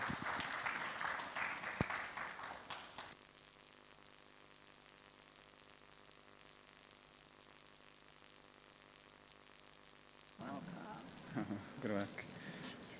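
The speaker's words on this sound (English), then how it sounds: "But just once more, a huge round of applause" Conference audience at an African debt and development conference gives a round of applause, a short burst of clapping at the start that dies away into quiet room tone before talk resumes near the end.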